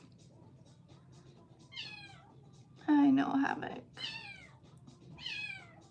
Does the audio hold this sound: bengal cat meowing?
yes